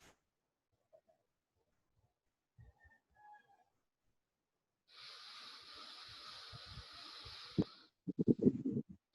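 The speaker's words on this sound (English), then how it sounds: "So that sound that you're listening, it's actually our lungs." Slow mindful breathing, with lungs drawing air in and out, begins after near silence as a long, steady, airy hiss and then gives way to a few shorter, rougher breathy puffs.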